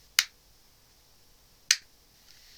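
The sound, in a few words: hand clap heard through Bluetooth earbuds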